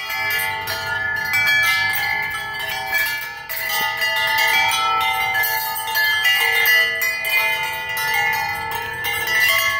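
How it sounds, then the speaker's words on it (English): A huge rustic wind chime rings with overlapping metallic bell-like tones that shimmer and sustain continuously, loud and close, with no talking. "that's the biggest wind chime ever"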